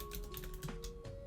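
Keys clatter on a computer keyboard in quick, uneven bursts of close clicks, with a steady electronic hum underneath.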